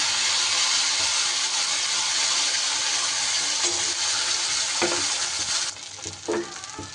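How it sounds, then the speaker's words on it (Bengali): Spice paste hissing loudly in hot oil with clove, cinnamon and bay leaf, a dense close sizzle that drops when water is added, with a few scraping stirs near the end. "এইবার সুন্দর করে মশলাটা কিন্তু কষিয়ে নিতে হবে"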